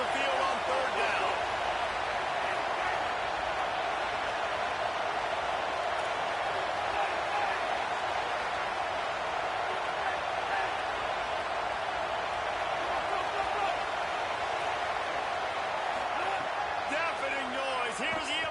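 Roaring home crowd at an Iowa NCAA college football game, a loud, sustained wall of cheering and noise that holds steady throughout as the defense tries to get off the field on third down.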